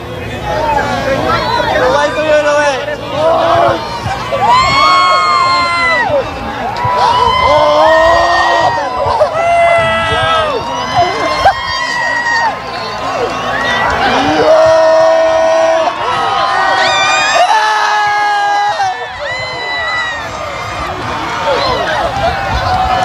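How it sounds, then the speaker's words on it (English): Crowd cheering and whooping at solar eclipse totality outdoors, a loud, continuous mass of voices with shouts and excited chatter rising and falling close around. "let's listen into the crowds and see hear their reaction to the totality"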